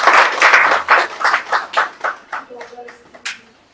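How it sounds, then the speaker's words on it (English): A small audience at a business analytics seminar claps loosely by hand, a cluster of distinct close claps that thins out into a few scattered final ones. "Another round of applause, please."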